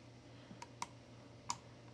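A few sparse, faint key clicks on a computer keyboard, three light taps spaced irregularly over a steady low background hum.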